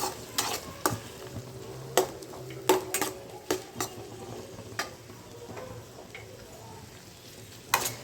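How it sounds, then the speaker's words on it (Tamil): Sliced onions with green chillies and curry leaves fry in a pan for a Kerala-style sardine fish curry, with a soft sizzle under sharp, irregular clinks and scrapes of a spoon stirring against the metal, close and fairly quiet. "கொஞ்சம் நேரம் வெங்காயம் வதங்கட்டும்"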